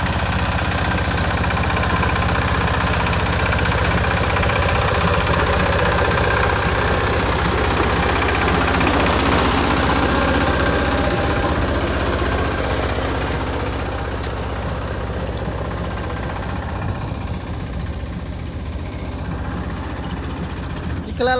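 A mini tractor engine runs steadily in a flooded, muddy field being prepared for transplanting, a loud continuous low rumble with a knocking chug that eases slightly toward the end.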